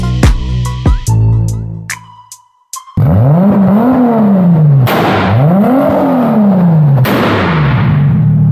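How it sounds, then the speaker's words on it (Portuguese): A few sharp mechanical hits, then a Toyota 2JZ engine in a 600 hp Toyota Supra roars and revs loudly through several rising and falling sweeps, close by. "poder escutar esse barulho. Surreal, esse é o 2JZ."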